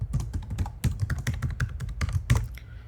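Quick, uneven clatter of keys on a computer keyboard as a password is typed, close and clear, with brief pauses between bursts of keystrokes.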